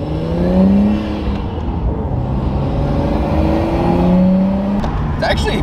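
A Nissan R32 Skyline with freshly overhauled suspension drives on a street, its engine droning and rising through gears from inside the car, loud and continuous, with a person speaking briefly over it.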